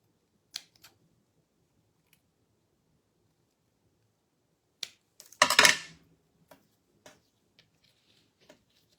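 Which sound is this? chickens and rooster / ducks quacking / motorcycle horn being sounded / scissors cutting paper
scissors cutting paper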